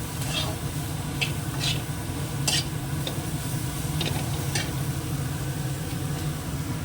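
Drumstick flowers and peas being stirred with turmeric, salt and chili paste in a pan, steady scraping and faint sizzle running throughout with a few sharper utensil clinks, close and moderate in level.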